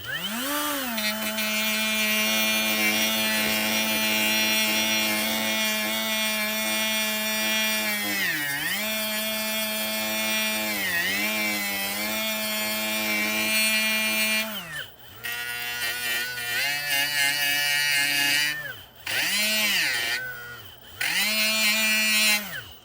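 A Hyper Tough right angle die grinder fitted with an aluminum oxide wheel whines loudly and steadily, its pitch dipping and rising as the trigger is feathered, then cutting out in short gaps near the end.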